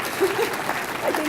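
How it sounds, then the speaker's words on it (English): Audience at a city State of the City address gives brief applause, a soft crowd clapping patter lasting about a second. "oh, you can applaud me"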